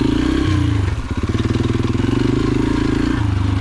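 A pit bike engine runs close and loud on a dune ride, its steady drone breaking into an uneven, pulsing stutter for a couple of seconds before smoothing out again.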